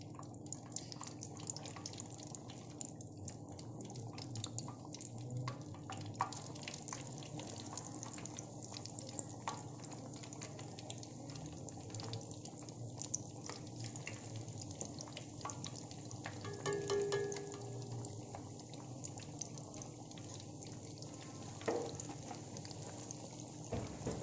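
Potato perkedel fritters sizzle and bubble in hot oil, a steady, close, watery crackle with scattered pops and drips lasting throughout, with no one talking.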